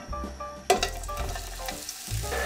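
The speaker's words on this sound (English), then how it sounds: "fry the onions now" Onions sizzle and fry in hot oil in a pan, with a sharp burst as they hit the oil and then a steady crackling hiss. Soft kitchen clatter can be heard, and nobody speaks.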